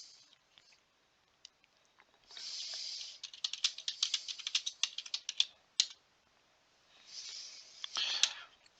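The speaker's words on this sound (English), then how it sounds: "He's just typing word" A computer keyboard is typed on in bursts of rapid close key clicks, separated by short pauses and quieter patches, with no voices.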